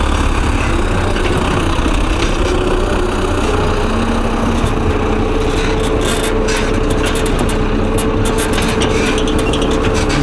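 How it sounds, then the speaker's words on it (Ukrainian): A tractor engine drones loudly and continuously inside the cab during winter crop fertilizing, a steady low hum with rattling and creaking of the cab throughout. "Гудить в тракторі так."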